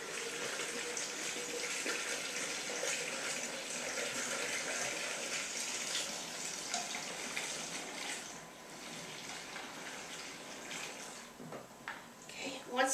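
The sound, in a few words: water from sink faucet filling a gallon container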